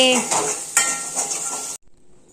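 Okra dish being served onto a plate, with loud metallic scraping and clattering of a ladle against cookware, one sharp clank partway through, then an abrupt drop to quiet.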